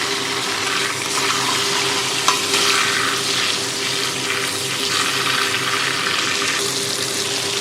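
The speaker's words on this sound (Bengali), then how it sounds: "সবার প্রথমে মাছে লবণ হলুদ মাখিয়ে মাছটা ভালো করে ভেজে নেব" A fish head rubbed with salt and turmeric fries in hot oil, making a loud, dense, steady sizzle and crackle throughout, with a faint constant hum beneath.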